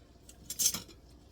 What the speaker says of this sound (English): we're going to switch to using a metal utensil.